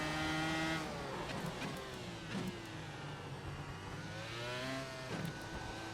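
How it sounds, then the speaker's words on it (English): Open-wheel Dallara iR-01 race car engine in iRacing, screaming at high revs with rising and falling pitch sweeps, bouncing off the rev limiter in second gear, loud and steady throughout with no talk. "Yeah, second gear is just a no-no. Just hit the rev limiter so quickly."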